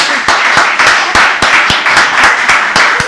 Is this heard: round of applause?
yes